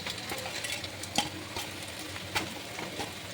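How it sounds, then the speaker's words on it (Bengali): Whole garam masala frying in hot oil in a kadai for restaurant-style mixed vegetables, giving a steady close sizzle with a few sharp crackles and spits and no talking. "কড়াইয়ের মধ্যে তেল দিয়ে দিয়েছি, আর তেলের মধ্যে দিয়ে দেবো গোটা গরম মশলা"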